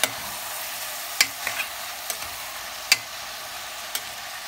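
Sliced leeks and garlic sauté in olive oil in a pan, giving a steady bright sizzle broken by several sharp clicks and scrapes of stirring.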